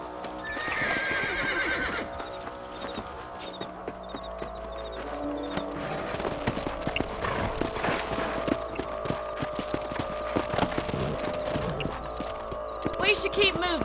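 Horse hooves clip-clop steadily in the Red Dead Redemption video game, mixed with a loud whinny near the start and a dense game soundscape of music and effects throughout.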